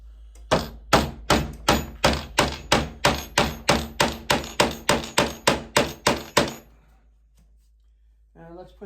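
Plastic hinge dowel inserts hammered into a cabinet door: about sixteen sharp, evenly spaced hammer blows in a steady rhythm, loud and close, then stopping. A brief voice follows at the end.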